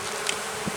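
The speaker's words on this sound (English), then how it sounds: "overall, these bees are really good." Steady, close hum of honeybees swarming over an opened hive box from a late-season split, a continuous buzzing drone with a few brief rises as single bees pass near.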